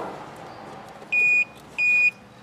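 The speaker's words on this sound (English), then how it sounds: "Voltage is low, it beeps the entire time." Two steady electronic beeps from a scan tool warning of low voltage, each about a third of a second long, sound close and clear over a low background hum, while diagnosing a Dodge Neon.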